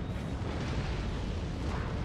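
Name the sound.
cannons firing in Empire: Total War video game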